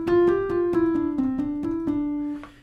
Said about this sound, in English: that is the sound of a cotton material in between the hammers and the strings